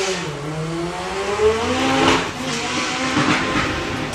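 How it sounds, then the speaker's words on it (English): A four-cylinder doorslammer drag racing car makes its run, a loud, sustained engine roar with rising pitch as it accelerates hard down the strip, heard without any talk. "Right, Paul Jordan in the 4-cylinder."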